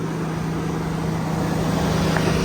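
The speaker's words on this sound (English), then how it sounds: "The fans are blowing pretty hard because the AC is on." Cooling fans on a 2013-2018 Chevrolet Suburban blow hard with the AC running, a steady loud whooshing roar with a low hum under it, constant and close throughout with no talk.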